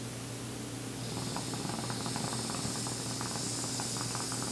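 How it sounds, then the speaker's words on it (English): Close, rapid bubbling and gurgling of water through a bong over a low hiss, steady for several seconds. "That's the sound of Joe hit his bong"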